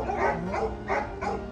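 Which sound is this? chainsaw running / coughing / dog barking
dog barking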